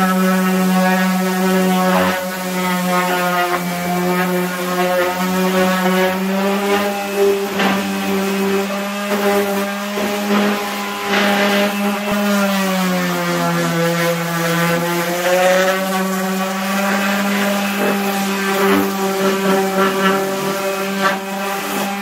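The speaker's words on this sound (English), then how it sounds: "So we'll get all this sanded up here before we get to the stain." A palm sander fitted with 80 grit sandpaper works over wood for a picket fence, giving a loud, steady motor hum with a droning whine that holds without pause throughout.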